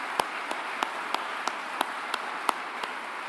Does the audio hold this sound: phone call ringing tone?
no